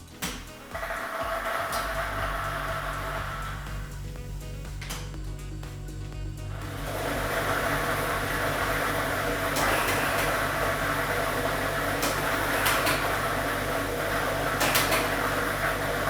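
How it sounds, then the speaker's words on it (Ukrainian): Lottery ball drawing machine running during a televised state lottery draw, a steady mechanical hum with air noise and scattered clicks and rattles of balls, fairly quiet and continuous. "ми вмикаємо лототрон"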